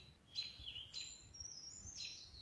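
Several short, high calls of a brown bird sound a few times in a row, clear against a quiet outdoor background with a low rumble.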